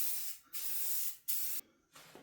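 A Rust-Oleum spray paint can hisses in three steady bursts of roughly half a second to a second each, close and fairly quiet, with short gaps between them and no voices.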